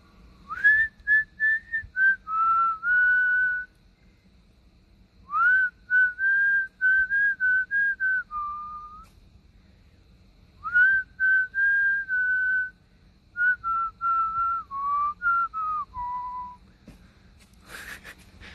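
Melodic human whistling, loud and close, in four phrases of short sliding notes separated by brief pauses, with no other sound over a faint background hum.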